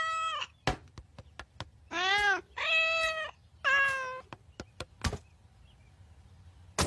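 A cartoon cat gives several loud, drawn-out meows close up, mixed with sharp clicks and knocking hits in an otherwise quiet scene.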